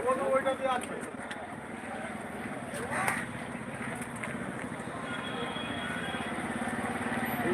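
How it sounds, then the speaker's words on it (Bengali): Motorcycles roll past one after another in a political bike rally procession near Amdanga, heard from inside a vehicle as a steady, mid-distance engine drone with faint voices in the background. "দেখুন বাইক র্যালি হচ্ছে একের পর এক একের পর এক গাড়ি যেতে"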